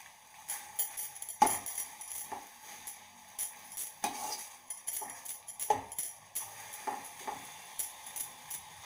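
A spoon stirs carrot rose halwa with rose petals in a pan, making soft, irregular scraping and scuffing strokes with light clinks against the metal. The sounds are faint and close.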